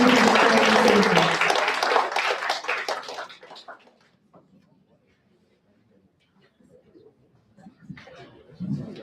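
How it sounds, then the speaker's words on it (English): Audience at a Town of Victoria Park citizenship ceremony bursts into dense applause that rolls for about three seconds, then thins to scattered claps and fades into quiet room noise, with a few faint sounds returning near the end. "Another round of applause, ladies and gentlemen"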